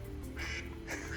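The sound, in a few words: duck quacking ringtone on a phone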